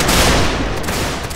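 A massed infantry volley of musket fire in a Napoleonic-style video game linebattle, a loud dense crackling roar of many shots merging into one sustained burst, close and alone.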